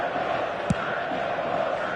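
Football match crowd in the Saitama Stadium, with stands close to the pitch, making a steady massed roar heard at a distance, with one brief louder burst in the middle.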